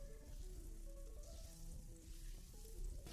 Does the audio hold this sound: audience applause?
no